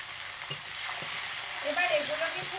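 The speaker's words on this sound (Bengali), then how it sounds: "এবার দিয়ে দেব ফোড়নটা হয়ে গেলে 2টো টমেটো কুচি, 4টে কাঁচা লঙ্কা কুচি।" Chopped tomatoes and green chillies frying in a pan after a spice tempering, for a chickpea ghugni, give a steady loud sizzle with a few soft stirring knocks, close by and with no talk.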